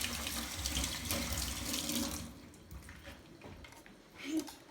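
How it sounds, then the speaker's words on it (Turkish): Tap water runs steadily into a home kitchen sink as hands are washed, close and fairly loud at first, then thinning to softer splashes with a brief swell near the end. "Ellerimizi bir yıkayalım."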